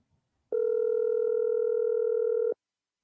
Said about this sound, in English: Hey, the phone ringing, you know?